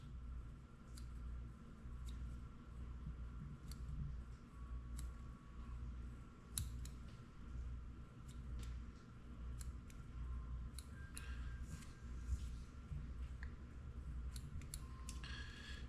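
Quiet, steady snipping of small fine-tip scissors trimming deer hair for a fly pattern, light clicks repeating irregularly over a low background hum.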